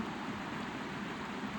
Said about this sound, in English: I'll let the rain pour on the damn phone